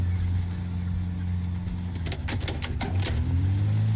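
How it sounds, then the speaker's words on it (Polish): Car engine running in the video game Project Zomboid, a low steady idle hum with a few quick clunky clicks in the middle before the engine tone shifts slightly higher. "auto słyszę, że chodzi"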